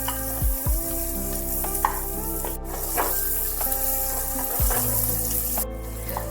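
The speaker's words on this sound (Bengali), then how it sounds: "পেঁয়াজগুলো হালকা করে একটু ভেজে নিতে হবে" Onions frying lightly in a pan over a medium-to-low gas flame for chicken stew: continuous close sizzling with occasional stirring scrapes, no voices.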